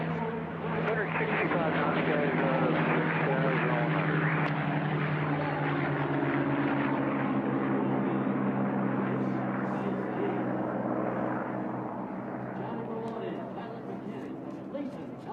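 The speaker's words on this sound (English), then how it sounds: "Another P-51 there as Brent gets that aircraft rolling" A P-51 Mustang C model's piston engine drones steadily as the aircraft rolls out at an unlimited-class air race, a loud, sustained throbbing roar that gradually fades, with a commentator talking over it.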